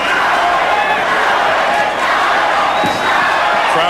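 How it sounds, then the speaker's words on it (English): A boxing crowd at a Chavez versus Gonzalez fight chants the fighter's name, heard as a steady, dense, loud roar of many voices that carries through the whole stretch without a break. "Crowd trying to get Chavez going by chanting Chavez, Chavez."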